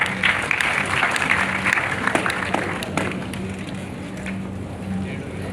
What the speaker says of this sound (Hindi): तो जरा ऑब्जेक्ट्स के लिए तालियां बजाएं भाई।